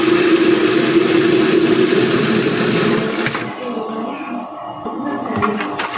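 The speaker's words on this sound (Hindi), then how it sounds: "ये पानी मैंने आधा लीटर और डाल लिया है।" Water poured in a steady rush into a cooking pot for karhi pakora, a loud continuous gush for about three seconds that then stops, leaving a quieter background.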